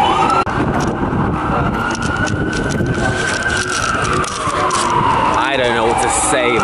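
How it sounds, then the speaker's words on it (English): Emergency vehicle sirens wail through a busy New York City street, a steady rising and falling tone over dense traffic rumble, with a voice talking over it. "there's just sirens everywhere."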